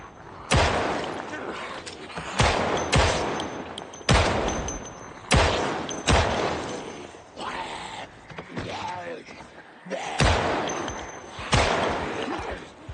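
Sharp, loud gunshots from firearms in the zombie survival game Project Zomboid, fired in irregular bursts and single cracks with short gaps, with a voice talking between shots.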